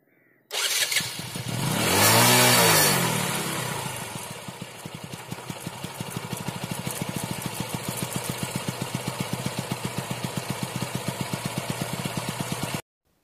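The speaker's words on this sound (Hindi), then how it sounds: "अब मैं आपको बाइक का साउंड सुना देता हूँ" A Bajaj Pulsar 220 motorcycle engine with a tappet noise starts, revs up once with a rising roar, then settles into a steady, close, thumping idle that runs until it cuts off.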